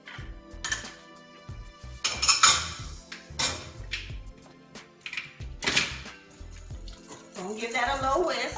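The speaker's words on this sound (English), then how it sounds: "Gonna give that a little whisk." Crab cake mixture with squeezed lemon is whisked in a bowl, giving irregular clinking and scraping bursts of metal against the bowl, fairly close, alongside some speech.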